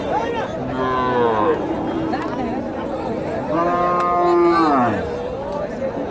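Cattle at a rural cattle market moo loudly in two long drawn-out calls, close by, over the chatter and murmur of a crowd.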